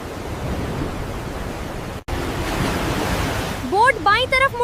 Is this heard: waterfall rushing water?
yes